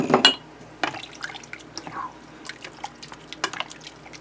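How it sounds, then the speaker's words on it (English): About a cup of stock is poured into a pan with dark turkey: a close splash at the start, then scattered drips and light liquid movement. "here I have about 1 cup of stock that I'm just going to go ahead and put in with it"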